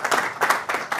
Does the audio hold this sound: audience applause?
yes